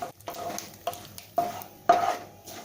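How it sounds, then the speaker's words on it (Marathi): Sesame seeds being roasted in oil in a pan and stirred with a spoon, four or five distinct scraping strokes at a steady rhythm over a faint sizzle, close and clear, with no talking. "आता ह्याच तेलामध्ये आपण तिल भाजून घेऊया"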